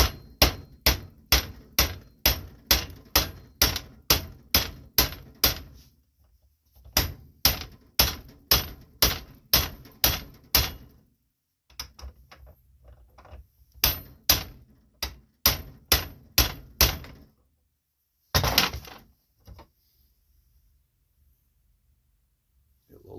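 Rapid metallic hammer blows in fast bursts, driving a socket over a bearing into the spindle of a Cub Cadet Super LT 1550 riding lawn mower, with pauses between runs and a final heavier strike.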